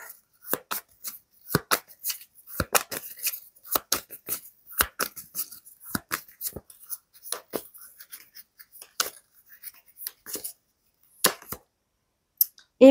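Tarot cards are handled and laid down on a table in a run of crisp, close snaps, slaps and shuffling flicks, irregular and quick, with brief pauses between bursts.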